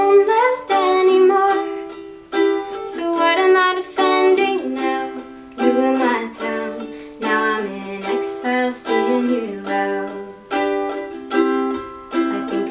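A ukulele plays the chorus of a song with steady strummed chords, full and close throughout, pausing briefly between phrases.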